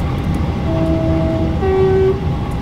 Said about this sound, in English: oh, the horn sounds decent.